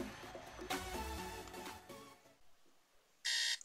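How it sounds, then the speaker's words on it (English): An alarm gives a short, loud electronic beep burst near the end, after a stretch of fading music and quieter sound. "Oh my god, that alarm."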